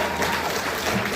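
Audience at a talk about a new Paultons Park rollercoaster breaks into a brief, dense patter of clapping, steady and moderately loud throughout with no voices on top.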